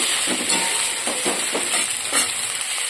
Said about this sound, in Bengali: কালো জিরে, পেঁয়াজ কলি, বেগুন, আলু দিয়ে দিলাম। একটু নাড়িয়ে নিয়ে